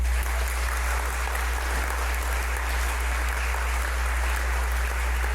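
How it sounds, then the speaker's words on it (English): Steady audience applause at an all-candidates meeting, a continuous dense wash of clapping from a crowd that holds at an even level for several seconds with no voices on top. "And a round of applause for our candidates."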